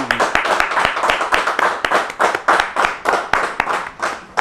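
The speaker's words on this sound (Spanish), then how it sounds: "Hay aplausos, sí, hay aplausos, muy bien." Steady applause from a group of people, dense rhythmic clapping continuing throughout, loud and close.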